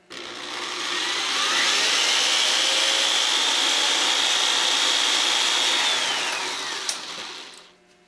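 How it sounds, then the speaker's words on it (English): A case trimmer cuts a 5.56/.223 brass cartridge case, a steady whirring grind that spins up, holds evenly for about five seconds, then winds down, close and fairly loud with no talking. "Now, when I run it through my trimmer"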